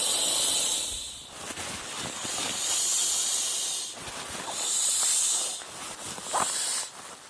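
Air hissing out through the valve of an inflatable sleeping pad being squeezed and rolled, loud close bursts of hiss in four or five surges separated by brief pauses.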